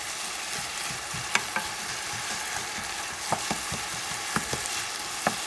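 Ingredients for an island-style goat stew (cabrito guisado) saute in a hot pan with a steady, even sizzle, broken now and then by sharp clinks of a utensil scraping and stirring, with no one talking.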